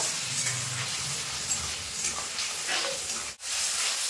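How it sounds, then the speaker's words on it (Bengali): Cut raw mango pieces frying with spice paste in a pan, a continuous soft sizzle and hiss with faint stirring, no talk. "এবার কেটে ধুয়ে রাখা আম দিয়ে দেবো। আম দিয়ে কিন্তু আমের সঙ্গে মশলাটা খুব ভালোভাবে একটু কষিয়ে নেব"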